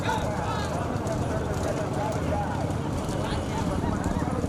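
Cattle hooves pounding in a Tamil bullock cart race at Kallal, a steady dense clatter of running animals and rolling carts under continuous crowd noise and shouting voices throughout.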